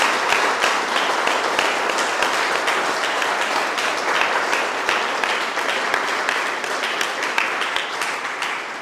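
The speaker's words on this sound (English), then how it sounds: "So please give him a round of applause." Sustained applause from an audience at a Victory Day commemoration event, a dense even wash of many hands clapping continuously for several seconds at steady volume.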